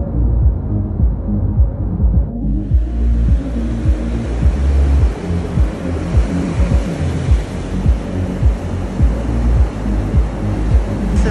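Ocean surf rolling onto a sandy beach in the Lofoten Islands, a steady, loud broadband wash with continuous rumbling breakers and no voices.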